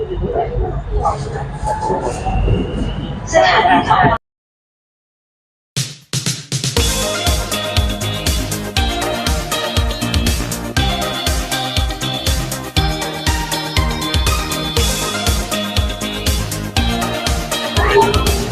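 Loud metro train interior rumble with rhythmic clacking and screeching on a Bangkok BTS Skytrain ride from Chatuchak Park, following a short stretch of ambient noise and a brief gap.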